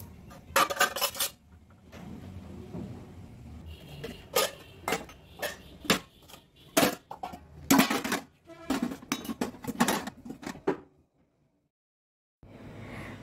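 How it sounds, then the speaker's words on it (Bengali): Dishes, pots and utensils clattering while a home kitchen is tidied after cooking: close, irregular clinks and clanks of metal and crockery in quick bursts, then a short silence before handling resumes. "তো তারপরে এই যে রান্নাঘর পরিষ্কার করে নেব"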